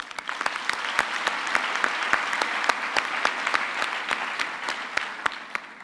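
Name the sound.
audience applause at graduation ceremony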